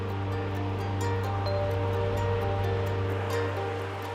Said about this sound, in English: a quiet stretch of sand with waves that surfers like to ride